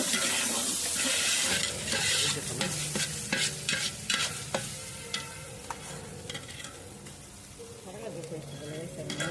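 Semolina being stirred into a sizzling pan of frying food, heard as repeated scraping stir strokes over a continuous close hiss, with a voice speaking intermittently over the cooking.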